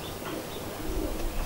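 Sport pigeons cooing at a loft, soft low throaty coos rising near the end over a faint background hum, with no speech.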